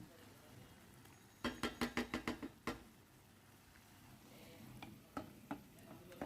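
Coriander leaves and garlic fry in a pan over raised heat, a soft hiss broken by a quick run of sharp utensil taps and a few later knocks against the pan.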